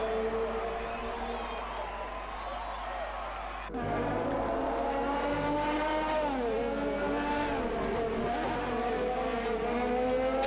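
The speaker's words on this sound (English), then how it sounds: "For the final time in the race, Undead breaks down for turn 12" Formula 1 race cars in the F1 2020 video game braking and accelerating through a tight corner, sustained high engine whine with falling and rising pitch and an abrupt downshift, loud and continuous under faint background crowd.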